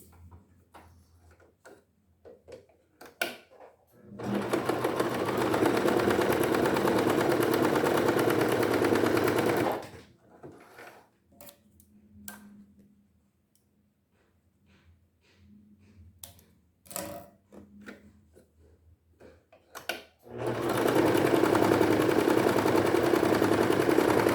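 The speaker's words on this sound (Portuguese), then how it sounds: "Agora a gente vai pegar esse fundinho que a gente fez um X e vai passar uma costurinha nesse X." A sewing machine stitches an X across the bottom of a small Easter bunny bag in two bursts of steady running, separated by a quiet pause filled with light handling clicks and fabric rustles.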